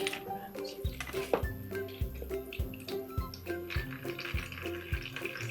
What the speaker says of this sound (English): What to do is put it over this jug and slowly pour in